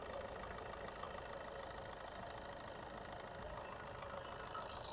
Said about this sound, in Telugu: చాలా సైలెంట్ ఉందండి ఇంజను